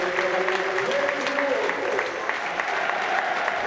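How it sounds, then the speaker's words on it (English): Football crowd at Brunton Park applauding steadily as a player is substituted off, a continuous wash of clapping with a voice talking over it throughout. "listen to the applause around Brunton Park"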